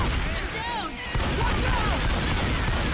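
Gunfire in the zombie shooter Left 4 Dead 2, with bursts of shots and a sharp crack about a second in, heard under players talking.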